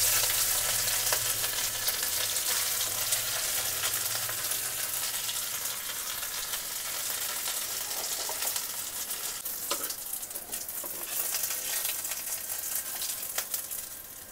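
Dried red chillies and white cumin seeds fry in hot oil as a tempering, giving a dense, continuous crackling sizzle close up, with occasional stirring scrapes and no voices.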